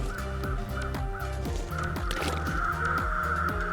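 Repeated loud caws from crows in the winter survival game The Long Dark, sounding close and insistent over a continuous rhythmic game background, with no voices.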